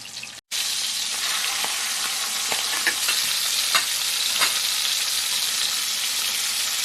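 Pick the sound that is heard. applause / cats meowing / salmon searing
salmon searing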